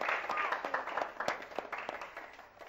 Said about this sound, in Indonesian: Ayo anak-anak berikan tepuk tangannya.